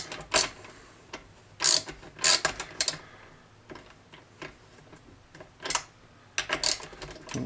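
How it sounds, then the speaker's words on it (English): A small circular ratchet clicks in short bursts while turning the truss rod nut on a Peavey Grind 5-string bass, with quiet pauses between each ratcheting stroke, close and fairly soft. "I've got this little circular ratchet, which is kind of cool. I'll see how much I can do with that."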